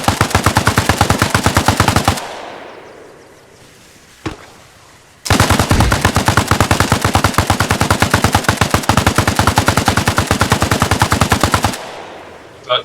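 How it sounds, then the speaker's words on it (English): A PK machine gun firing in the Arma Reforger video game, two long, loud, rapid automatic bursts split by a short pause with a single shot between, ending with one more shot. "That you were shooting him, Anders?"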